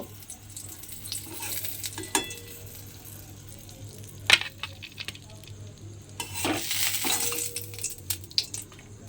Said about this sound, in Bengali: আবারও ওই তেলের মধ্যে পটলগুলো দিয়ে এইভাবে সমস্ত পটলগুলো আগে ভেজে নিতে হবে।